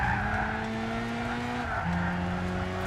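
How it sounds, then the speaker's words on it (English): Tyres on a Renault Clio squeal steadily while cornering in the Gran Turismo 6 racing game, a loud sustained screech over constant engine drone from the in-car view, with the pitch shifting partway through. "You can hear the tyre squeal a lot more"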